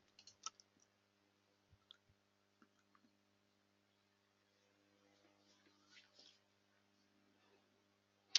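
Faint, scattered mouse clicks in a quiet room as a Build Now button is pressed in the Jenkins interface, followed by a slightly louder click at the very end. No one speaks.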